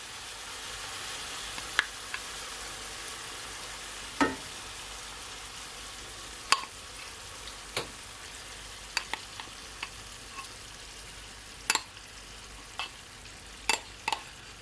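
Ackee sizzles steadily in a pan for Jamaican seasoned rice, a soft, even frying hiss broken by light, scattered clinks and scrapes as it is stirred, with no talking.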